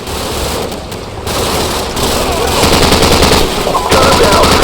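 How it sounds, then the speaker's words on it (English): Sustained machine gun fire from a Call of Duty 4: Modern Warfare firefight, loud dense rapid bursts that grow heavier toward the end, with faint voices in the background. "their flank with their machine gun"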